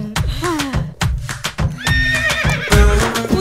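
During a word-guessing acting game, a person imitates a horse with close, loud whinnying neighs and clip-clop sounds, in several bursts over a few seconds, with other people nearby.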